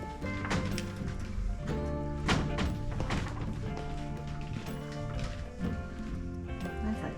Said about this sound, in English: That's a team of horses.